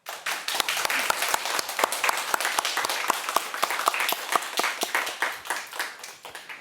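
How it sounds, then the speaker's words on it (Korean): A church congregation claps at a thanksgiving service for a worship hall expansion, a steady run of sharp, separate hand claps at moderate volume with no talking over them. "하나님께 영광의 박수"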